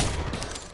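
Sustained gunfire in the Call of Duty video game, a dense, loud volley of overlapping shots filling a brief moment with no pauses.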